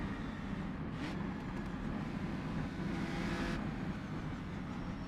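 Race car on the Isle of Man Time Trial course, running as a steady, loud engine roar with a brief rising burst near the start and a short surge later.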